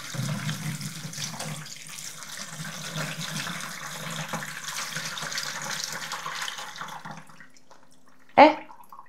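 Cold tap water runs steadily into a container for brining cabbage into sauerkraut, a continuous splashing gush for several seconds that stops, followed by a single sharp knock.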